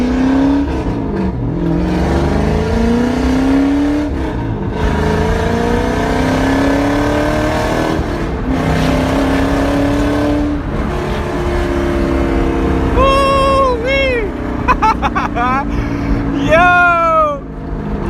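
A Toyota Supra Mk2 with a swapped-in 1UZ-FE V8 drives on the road. The engine note climbs and falls loudly and close through repeated revs and gear changes, with voices talking over it.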